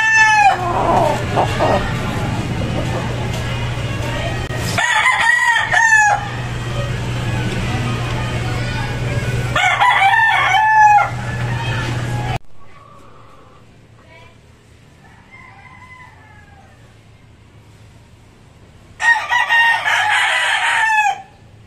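Gamecock roosters crow repeatedly at a poultry expo, several loud crows cutting through steady crowd noise and a constant hum, with someone talking over the first half and a quieter stretch before a final crow.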